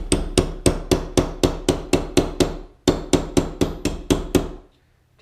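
Quick, steady hammer taps on a silver pendant form a dimple, roughly twenty close, bright metallic strikes in an even rhythm with a short pause midway, then the tapping stops.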